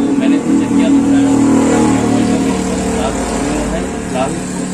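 A Hero Splendor Plus 100cc motorcycle engine with smoking and engine-noise problems runs at a steady idle, a close, continuous mid-pitched drone under someone talking throughout.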